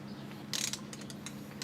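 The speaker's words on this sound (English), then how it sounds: "So first, torque it to 37 foot-pounds, and then add another 90-degree turn." A torque wrench ratchets on the timing belt roller bolt of a 2.0L VW TDI engine: a low mechanical hum, then a short burst of clicks near the middle and a couple of sharper ticks near the end, close and fairly quiet.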